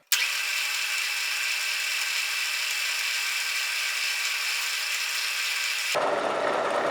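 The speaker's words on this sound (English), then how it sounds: "So we're going to go in, touch off, set our depth, set our zero, and start cutting." A machine tool cuts metal while an A.H. Fox shotgun is custom shaped, giving a loud, steady, high whine that starts abruptly and shifts tone near the end, with no talk.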